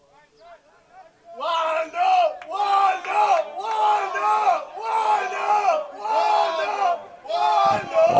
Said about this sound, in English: He's certainly got the crowd fired up.